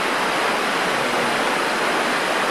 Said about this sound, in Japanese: 綺麗な川が流れてます。